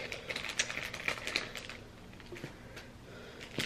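Scissors snip through plastic packaging to free betta leaf hammock pieces, a run of close, crisp clicks and crinkles early on that thin out into quieter, scattered snips.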